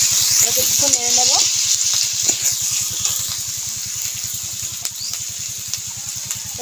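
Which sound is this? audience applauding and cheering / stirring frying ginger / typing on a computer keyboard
stirring frying ginger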